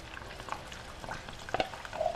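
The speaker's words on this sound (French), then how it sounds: "voyez mon gingembre commence à frire." Ginger spitting in hot oil in a pan while being cooked down into a candied ginger sauce makes a soft, continuous sizzle with faint crackles and a couple of brief metallic taps, fairly quiet and without speech.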